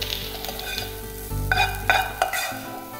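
Vegetables stir-frying in a pan for a chicken sandwich, a loud close sizzle with several sharp spatula scrapes and clinks against the metal pan.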